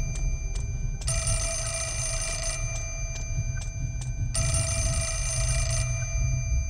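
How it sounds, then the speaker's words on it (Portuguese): Telephone ringing in the video game Fatal Frame: Mask of the Lunar Eclipse, a bright electronic ring in two long bursts preceded by short clicks, loud and close over a low ambient hum. "ah, telefone."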